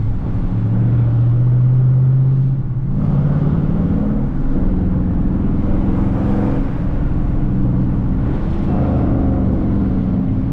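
A Dodge Charger R/T engine rumbles steadily from inside the car while driving through city streets, loud throughout, with deep low drone and brief swells as it accelerates and shifts.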